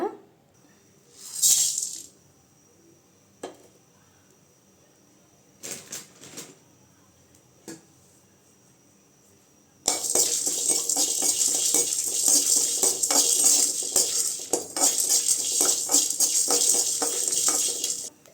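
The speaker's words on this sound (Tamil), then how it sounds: "மிளகு ஜீரகம் சோம்பு காஞ்ச மிளகா ரெண்டு எடுத்துருக்கேன் இதை நல்லா வறுத்துக்கலாங்க" Pepper, cumin, fennel and dried chillies dry roast in a pan. A few isolated clinks and knocks come first, then a loud, steady rattling of spices tossed and stirred against the hot metal takes over. No voices.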